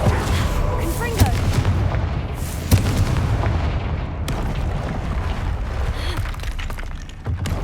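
A Confringo fire spell in the Hogwarts Legacy video game sets off several sharp booming blasts, spaced a second or so apart, over a dense, rumbling game background.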